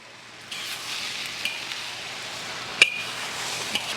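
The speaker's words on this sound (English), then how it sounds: "You just stir it all together." Fried rice stirred in a hot pan, a soft continuous sizzle with occasional light clinks of a utensil against the metal, fairly quiet and steady.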